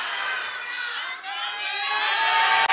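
A debate audience at the first 2024 Indonesian vice-presidential debate cheers and shouts loudly in a sustained crowd roar, with whoops rising toward the end.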